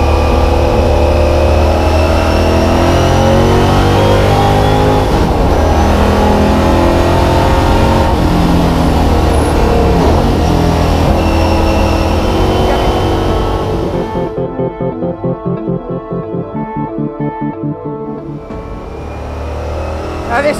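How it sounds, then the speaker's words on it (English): Lola T70 race car with a 650bhp 5-litre V8 accelerating hard on a track, a loud, close, continuous engine roar with rising harmonics, then rapid gear changes and a pulsing, crackling note near the end. "Now just listen to that 5-litre V8."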